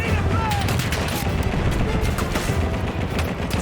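Vickers machine gun firing in Battlefield 1 during a Gallipoli campaign battle, a dense, loud, continuous rattle of gunfire with explosions mixed in throughout.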